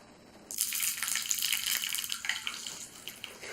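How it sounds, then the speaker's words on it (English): Popping candy fizzes and crackles as liquid is poured over it, a bright, dense hiss of tiny pops that starts abruptly and continues steadily at close range with no talking. "When you pour liquid onto this popping candy, it'll crackle"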